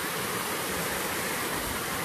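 A waterfall with two streams of water gives a steady, dense rushing roar, close and continuous for the whole stretch with no voices.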